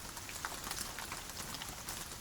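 Soft rain falls in a dense, even patter of fine drops, faint and continuous, with no other sound standing out.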